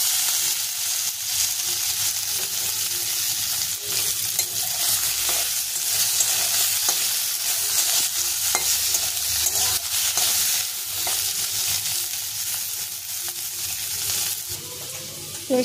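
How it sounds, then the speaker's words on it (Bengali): Paneer frying in a pan for a Bengali potol paneer dish, a steady bright sizzle with occasional stirring scrapes, close and continuous throughout. "এবার পনিরটা ভেজে নেব।"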